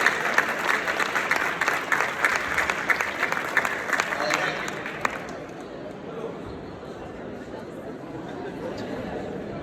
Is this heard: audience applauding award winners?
yes